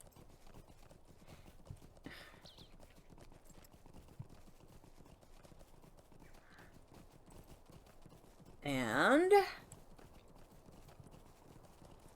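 Faint, steady hoof clip-clop from a horse being ridden in LOTRO sits under low background ambience, broken midway by a louder, brief whinny-like swell.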